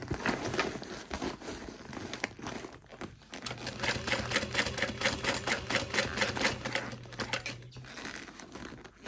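A sewing machine stitching a handbag, a rapid steady mechanical clatter that runs for several seconds, pauses briefly, then resumes with a sustained motor hum underneath.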